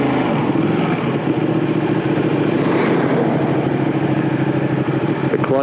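A Ducati 959 Panigale sport motorcycle being ridden, its engine droning steadily and loudly throughout with a continuous broadband roar and wind rush, no clear revving peaks and no speech.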